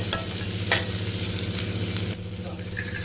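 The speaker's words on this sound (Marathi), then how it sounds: "कांदा खूप नाही शिजवायचा आहे. अर्धा कच्चाच ठेवायचा आहे. थोडं परतवून घ्या." Onion and green chillies sauté in a pan for a spicy yogurt pitla, sizzling steadily up close with a few sharp scraping stirs and no talking.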